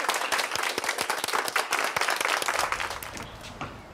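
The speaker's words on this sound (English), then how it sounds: "So a big clap down for everybody" An audience applauds loudly with rapid, dense clapping from many hands that holds steady, then thins and fades toward the end.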